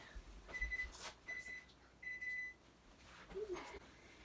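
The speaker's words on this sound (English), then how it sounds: "So there's the timer." A faint electronic kitchen timer beeps in three short bursts, thin and high-pitched, over a quiet room hum while bread bakes.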